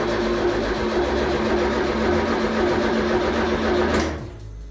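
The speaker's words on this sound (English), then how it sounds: "And the noise you heard buzzing, that's the fuel pump." A fuel pump in a car with a swapped engine buzzes steadily with a mechanical whirring drone, then cuts off abruptly near the end, leaving quieter background.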